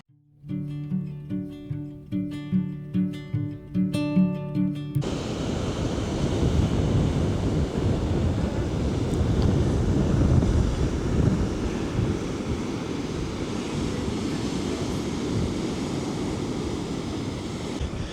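Steady wind gusts roar across a beach near the campground at Fort Clinch State Park, filling the clip with loud, continuous broadband rushing after a brief opening of music, with no talking.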